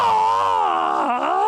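A game master voices an imitation of a scream during a tabletop roleplaying session, one loud, sustained, wavering cry held for over a second, close and alone.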